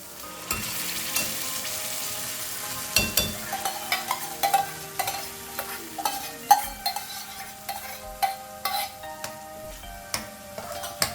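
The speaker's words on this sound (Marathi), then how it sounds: "आता हे पण आपल्याला तूप सुटेपर्यंत आपल्याला पूर्ण परतून घ्यायची आहे" Onion-tomato paste sizzles in ghee in a pan while a utensil scrapes and stirs it in repeated clicks and scrapes, close and steady over a constant frying hiss.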